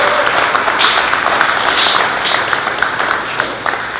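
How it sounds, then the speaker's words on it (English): Audience applause for a robotic circus cast and crew, dense steady clapping from a small crowd filling the whole few seconds, close and fairly loud. "So big round of applause for that."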